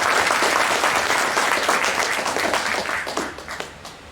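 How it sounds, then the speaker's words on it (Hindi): A cultural evening audience gives loud, dense applause for a married couple on stage, a full wash of clapping that gradually thins and fades toward the end, with faint crowd murmur. "तो इन दोनों के लिए एक बार फिर से जोरदार तालियां"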